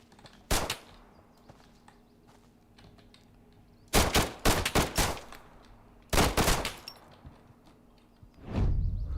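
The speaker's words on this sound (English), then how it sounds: "Can this actually shoot through fences?" Gunfire in the video game Road to Vostok comes in sharp, loud bursts: a single shot, then a rapid volley of several shots, another cluster, and a final heavier blast, with faint keyboard clicks between and no talk.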